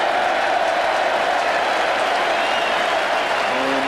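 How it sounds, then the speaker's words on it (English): Adelaide crowd at a 1993 Fosters Cup Australian football match raising ironic cheers and applause after a North Melbourne goal, a steady broad roar filling the stadium throughout. "The ironical cheers are forthcoming because it's taken a half a game of football"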